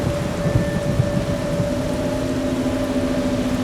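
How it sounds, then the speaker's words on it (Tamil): Steady rain falls outside in a short film scene, a continuous dense hiss with low rumbling underneath and no voices. "வெளியே மழை பெய்யுதுப்பா"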